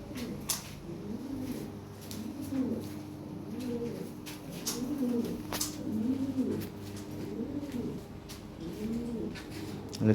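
Cream bar Lahore pigeons coo in a steady run of soft, rounded, repeating calls close at hand, with faint clicks and background noise and no talking.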